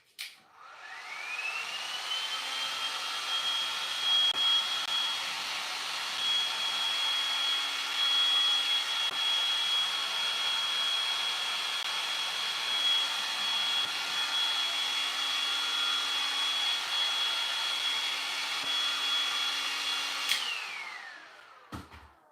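A handheld dryer blows steadily on freshly applied pink paint, a close, continuous whooshing hum with a thin high whine, spinning up at the start and winding down after about twenty seconds.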